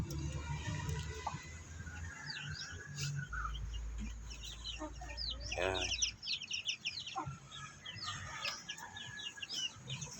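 Native chickens clucking in a backyard pen, heard as scattered short clucks and calls at moderate distance over a low background rumble and a trickle of water.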